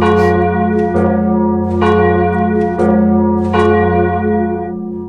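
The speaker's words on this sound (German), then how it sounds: "Ich höre die Glocken läuten" Church bells in Minecraft toll loudly in a slow, even sequence of strikes, their rich ringing tones sustaining and overlapping with no voices present.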